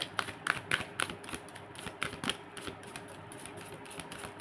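Spirit cards are shuffled by hand, producing a quick series of crisp riffling flicks and taps, loud at first and then fading to softer rustles.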